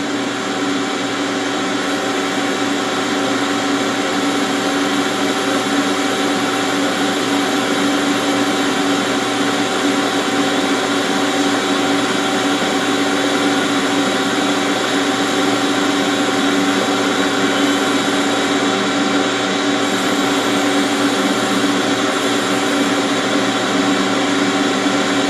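A lathe turns a workpiece with a burnishing tool for the finest finish, giving a steady, continuous machine hum with a broad, even whir that holds level throughout, close and with no talking.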